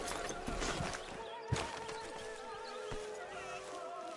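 A horse in Red Dead Redemption 2 whinnies in a long, wavering neigh, with hooves clopping and a few thuds nearby.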